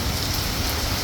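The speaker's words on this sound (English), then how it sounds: "usually the rain will stop after a while and we can go out" Steady rain pours down at Saigon Zoo in Vietnam, a dense, even hiss of drops on surfaces filling the whole moment without a break, with no voices over it.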